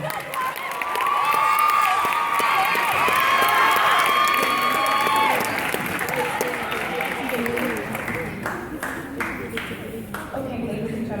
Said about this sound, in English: Let's have another round of applause for these contestants.